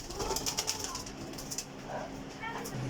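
Young Sialkoti pigeons cooing softly with brief bursts of wing flapping, close by, over a low background murmur and faint voices.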